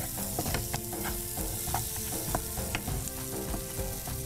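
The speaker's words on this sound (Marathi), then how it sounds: "आणि आता आपण त्याच्यामध्ये अंड मिक्स करूया।" Eggs are stirred into vegetables frying in a pan for a cheese corn masala burji, a steady sizzle broken by repeated scraping stirs, close by and without speech.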